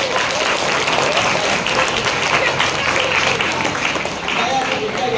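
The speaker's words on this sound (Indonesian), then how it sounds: "Tepuk tangan dong." Students at a high school event break into loud, close, continuous clapping that fills the room steadily throughout.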